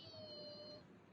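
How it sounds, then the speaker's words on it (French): A single short, high-pitched meow from a small cat at a New York inn, fairly quiet and close, lasting under a second. "on vient de croiser le petit chat de l'auberge où on est"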